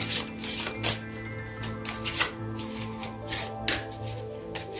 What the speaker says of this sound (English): I'm just gonna pull some oracle cards